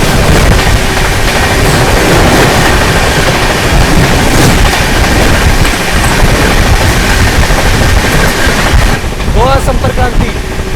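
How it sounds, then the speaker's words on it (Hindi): The Goa Sampark Kranti express, running Chandigarh to Madgaon, passes loud and close with a steady roar, rattling wheels and wind buffeting, and a short horn-like tonal sweep near the end. "चलिए दोस्तों सामने से आ रही है चंडीगढ़ से चलकर मडगांव की ओर जाने वाली गोवा संपर्क क्रांति।"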